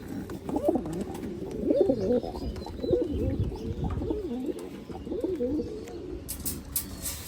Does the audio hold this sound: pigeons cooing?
yes